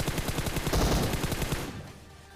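Rapid automatic gunfire in the PUBG Mobile video game, a dense close burst of repeated shots lasting under two seconds, then cutting off into a fading tail.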